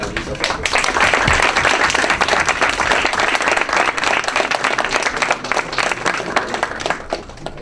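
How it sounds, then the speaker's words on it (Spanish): An audience at a university debate on the Iranian nuclear program applauds a speaker with loud, close clapping that is dense at first and then thins into scattered claps, with faint voices underneath. "les ruego un aplauso para la maestra Luisa Pérez"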